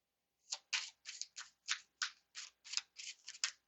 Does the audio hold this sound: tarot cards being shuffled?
yes